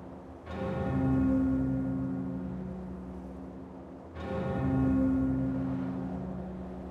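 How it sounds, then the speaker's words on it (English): Two deep bell strikes in the video game Jade Empire, each a resonant clang with a long humming decay, about four seconds apart and heard without talk. "Sky better have a good reason for ringing that bell."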